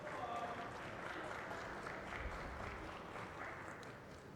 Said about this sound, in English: Just heard a bunch of applause from the main part of the tournament area there.